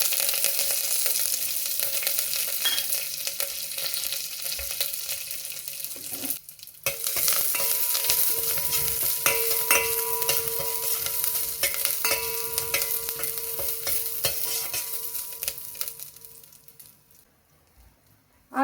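Crushed garlic and curry leaves fry in oil for tomato saaru, a steady close sizzle with spitting crackles, a brief drop around the middle and a fade near the end.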